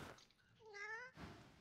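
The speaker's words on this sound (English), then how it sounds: "The cat sighs sadly." A cat in Divinity Original Sin 2 lets out a single drawn-out, sad-sounding meow, rising and falling in pitch, faint and alone, bracketed by brief soft rustles.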